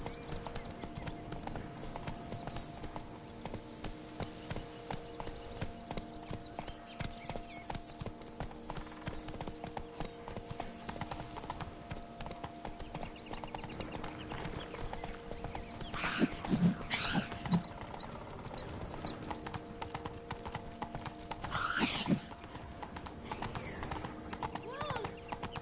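Roach, Geralt's horse in The Witcher, galloping with a continuous rapid drumming of hooves, a brief whinny partway through, and a voice speaking over the hoofbeats.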